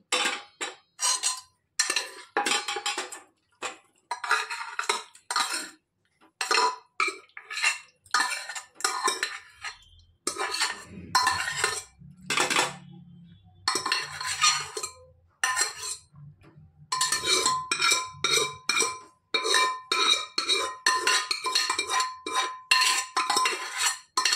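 Cooked potato curry is scraped out of a metal pan with a spoon, making a close, busy run of clinks, taps and scrapes in quick irregular bursts with brief pauses between them.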